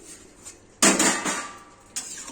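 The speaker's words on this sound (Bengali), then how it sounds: "ঢাকাটা তুলে দেখি" A metal lid lifted off a pot of cauliflower curry lands with a sudden bright clatter and a lingering rattle, then a second lighter clink follows a moment later, close up in a home kitchen.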